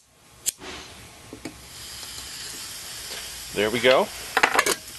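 An MSR Reactor gas stove running on a frozen isobutane canister is lit, giving a click and a soft, rising hiss of gas with a few sharp ticks, while someone speaks briefly nearby.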